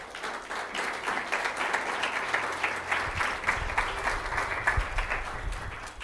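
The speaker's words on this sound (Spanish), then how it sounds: "Yo le daría un aplauso al Señor." Steady congregational applause at a Spanish-language church service, even dense clapping from a crowd heard at moderate distance throughout, with no talk over it.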